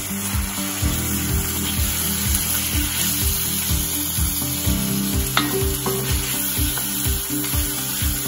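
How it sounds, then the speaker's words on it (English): Ground beef is smashed and fried in a hot wok for Thai kra pao, with a loud continuous sizzle and regular rhythmic scraping strokes of a spatula against the metal, no voices. "So kind of like really break down the ground meat so they will not form any lumps in your dish."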